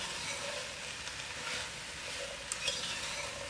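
Vegetables for a chunky butternut soup fry in a pan with a soft, steady sizzle and faint stirring scrapes, quiet and close with no talking.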